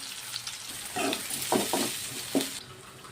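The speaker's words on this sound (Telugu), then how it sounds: "కడాయిలో నూనె పోసుకున్న ఆవాలు, జీలకర్ర, ఉల్లిగడ్డ 2 పెద్ద సైజు ఉల్లిగడ్డలు వేసుకుంటున్నాను నేను దీంట్లోకి" Onions fry in hot oil with mustard seeds and cumin in a kadai, a steady close sizzle. A few sharp pops and spatters rise above it while the ingredients are stirred.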